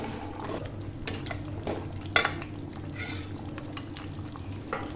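Chicken cooks in a pan in a home kitchen with a steady, soft sizzle, and a few brief clinks of a spoon or utensil break through it.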